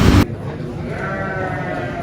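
Garut sheep bleat at a busy livestock market in Tanjungsari, Sumedang, a loud burst at the start followed by ongoing crowd murmur and animal noise.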